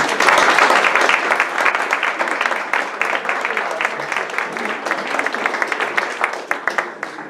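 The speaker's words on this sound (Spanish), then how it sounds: "Un aplauso para él" At a poetry evening, the audience claps for the invited poet, with dense applause at first that thins into scattered individual claps before fading.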